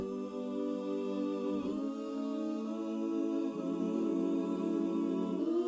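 Synthesized choir-like "ooh" voices hold smooth, sustained chords played on a keyboard, shifting pitch twice, steady and fairly loud with no other sounds.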